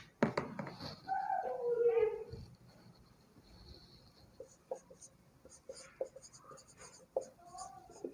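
A marker scratches across a classroom board during a Hindi literature lesson, with scattered short squeaky strokes and taps, a voice speaking softly at the start and faint bird calls in the background.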